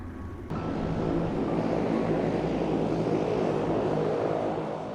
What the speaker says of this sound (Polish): Warkot silnika lotniczego.